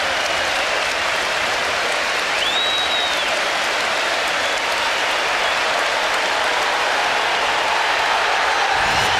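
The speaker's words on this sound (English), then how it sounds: "the applause for Dennis Bergkamp has got even more intense" A football crowd at Arsenal's ground against Wigan Athletic applauds Dennis Bergkamp, a loud, continuous wash of clapping from a big stadium crowd with a faint whistle rising above it.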